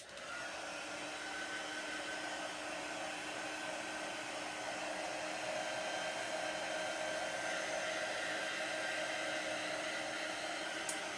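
A handheld hair dryer blows steadily to dry paint on tabletop bird decor, a loud constant whirring hum with a high whine that holds unbroken for about eleven seconds, close to the mic and without speech.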